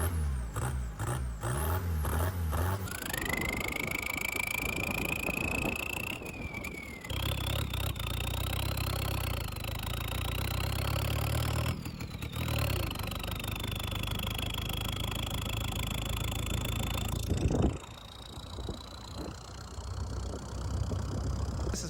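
A truck engine idles steadily with a low rumble, joined by a rising whine and an air-brake hiss. The drone runs unbroken for about twenty seconds, apart from short drops in level.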